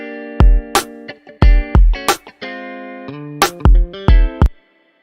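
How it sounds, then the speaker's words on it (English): Plate reverb from a Waves plugin washes over a plucked, harmonically rich instrument, with sharp repeated attacks trailed by ringing, sustained tails that hang between notes and fade after the last hit. "That's a nice reverb sound. This is probably the best reverb sound that Waves have."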